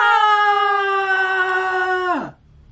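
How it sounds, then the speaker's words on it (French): A child's high scream held steady at full volume for about two seconds, then sliding sharply downward and cutting off into near silence, heard alone without talk. "c'était les cris d'enfant"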